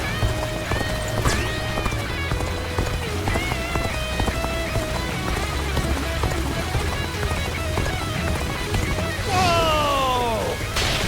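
Horses galloping in the video game Dynasty Warriors Origins: a continuous rapid clip-clop of hooves with occasional neighs and whinnies, a sharp descending cry near the end, amid battle ambience and faint voices.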